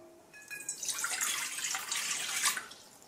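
A cup of water is poured into a bowl with flour, salt and dry yeast for bread dough, making a short, bright splashing trickle that swells and then stops.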